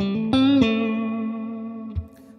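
Electric guitar with its volume rolled back to 8, at a softer, cleaner level: a few quick chord changes, then a held chord ringing out with reverb before a brief final pluck.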